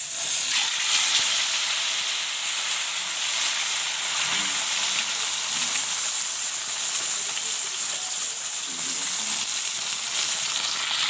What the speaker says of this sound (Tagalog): Prito muna natin itong tilapia.